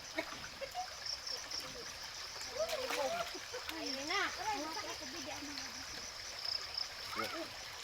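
Water splashes and trickles steadily while someone moves through floodwater on a dark road. Voices talk over the running water throughout.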